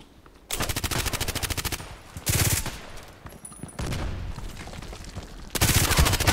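A Glock 18 fires in the shooter game Contract Wars in three long, rapid automatic bursts, loud and close, with short quiet gaps between them.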